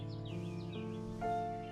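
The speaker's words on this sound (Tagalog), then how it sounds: "Naririnig mo yung huni ng mga ibon." Birds chirp faintly in the distance at a hillside campsite near a river, giving a few short, quiet tweets over a low steady background hum.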